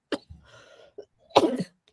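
A couple of short, close coughs, one quick and one heavier, separated by a soft breath.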